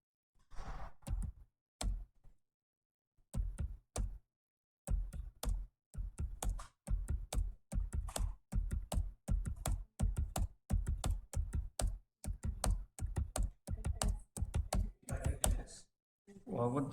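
Rapid keystrokes on a computer keyboard while entering a keyboard shortcut, close and crisp, arriving in quick bursts with short pauses between them; no voices over the clicking.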